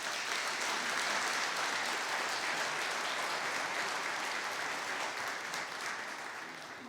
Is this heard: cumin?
no